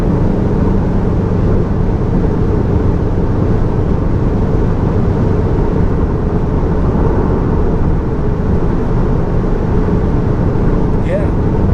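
A Cupra Formentor 310 cruises at about 100 in 7th gear near 3000 RPM, its engine a steady low drone blended with road and wind noise, loud and unbroken throughout with no talk over it.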